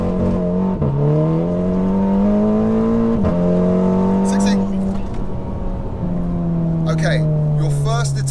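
A 360bhp Revo Stage 2 tuned Scirocco R launches hard on a wet road with wheel spin, its loud engine note climbing repeatedly with sharp drops at each gear change, and faint voices near the end.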